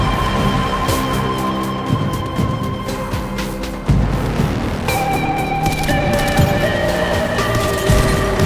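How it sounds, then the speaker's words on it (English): Gunfire in Apex Legends rings out in the distance as a steady layered fusillade of shots and crackles, mixed with in-game music and effects, with no talking. "In the distance you can hear subtle sounds of gunfire."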